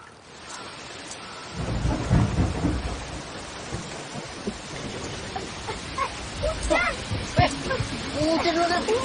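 A thunderstorm with steady rain pattering on surfaces, deep rumbling thunder rolling in after a quiet start and building to a dense, continuous wash, with people talking beneath it.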